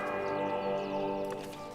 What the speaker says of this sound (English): We got 2 little bells.